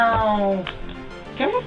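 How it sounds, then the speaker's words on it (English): A pet cat meows a few times close by, the calls rising and falling under and between people talking in a home. "That's our cat."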